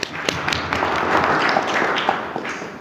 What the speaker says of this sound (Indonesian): Kasih tepuk tangan dulu Yunaji.